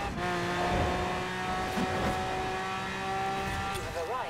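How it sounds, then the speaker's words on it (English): Car engine in Forza Horizon 4 accelerating at full throttle in wintry traffic, a steady loud harmonic drone rising slightly in pitch through the run, with a voice talking over it throughout. "And now just go full throttle"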